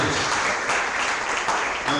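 Worshippers at a church family-campaign service applaud together, a broad continuous patter of clapping with some voices blending underneath.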